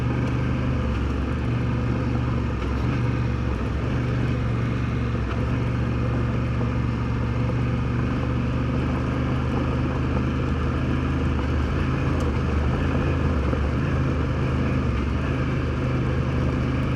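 A Honda Africa Twin motorcycle rides along a very gravelly road, its engine giving a steady, loud drone mixed with rushing wind and road rumble from start to finish.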